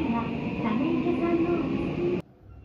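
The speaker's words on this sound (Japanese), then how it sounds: "さあ永田町を発車です" A Tokyo Namboku Line subway train hums and whines as it pulls away from Nagatacho station, its motor tone rising steadily, then cuts off abruptly into a quieter background.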